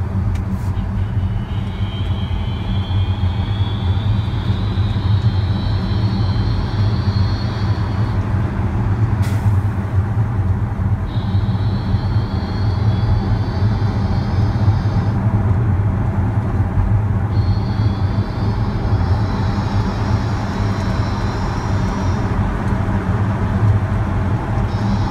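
A Tesla electric car motor making an abnormal noise: a steady low mechanical hum with a repeating rising whine that cycles every few seconds, continuous and fairly loud with no talking.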